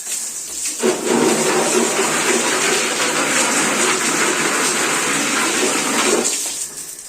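Running water gushes while a pet's enclosure is washed out, a loud, steady splashing rush that starts abruptly after a second and tapers off near the end.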